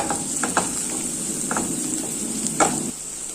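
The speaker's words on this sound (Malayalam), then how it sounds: "എന്നിട്ട് ഇതെല്ലാം കൂടി നന്നായിട്ടൊന്ന് മൂപ്പിച്ചെടുക്കാം." Beetroot and potato sauté in a hot pan with turmeric and salt, giving a steady close sizzle with a few brief stirring scrapes and clinks, then the frying noise drops slightly near the end.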